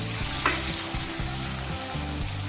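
Onion and tomato sizzle loudly in a hot pan, with a few scraping stirs breaking through the steady frying hiss.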